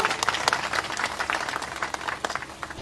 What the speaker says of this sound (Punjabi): ਇੱਕ ਵਾਰੀ ਤਾੜੀਆਂ ਲਾ ਕੇ ਦੱਸ ਦੋ